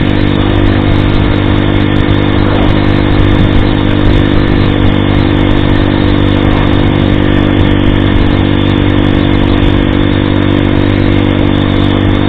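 A steady, loud supermoto motorcycle engine drone during a night ride, with constant low humming, exhaust noise and rushing wind buffeting around throughout.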